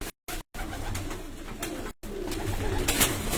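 Domestic high-flying pigeons kept at a home loft near Sarai Alamgir coo in low, throaty rolls, close and steady, with a few abrupt silent gaps breaking the sound early on.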